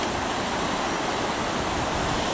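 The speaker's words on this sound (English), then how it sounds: "And this tiny kind of waterfall." A tiny waterfall on the River Wye in an English town rushes steadily, a continuous close, broadband splashing hiss with no voices.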